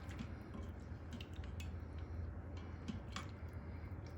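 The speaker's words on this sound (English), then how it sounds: "we're going to give this a stir" Cheesy broccoli soup with cream and cheese gets stirred in an Instant Pot, giving faint wet squishing and light utensil taps against the metal pot beneath a low, steady background hum.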